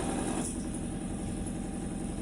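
A wrecked Ford GT engine running with no exhaust fitted gives a loud, steady, slightly distorted mechanical roar with no clear rev peaks, close up and without talk.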